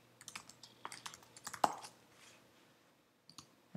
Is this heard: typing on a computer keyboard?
yes